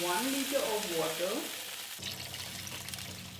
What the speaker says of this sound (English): It's time to add 1 liter of water.